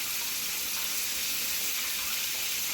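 Chicken drumsticks and wings frying in oil in a pan give off a dense, steady hiss and crackle, close and continuous, with no voices.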